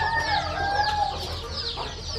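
Many chickens cluck and chatter together in a busy, close coop, with overlapping calls and no one speaking.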